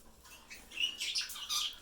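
Parakeets and larger parrots in an indoor bird room chirp in a quiet, scattered way, with short high tweets and calls coming in bursts that get denser and louder toward the end.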